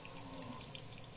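Tap water runs from a faucet in a soft, steady hiss, fairly faint and continuous, with no talking over it.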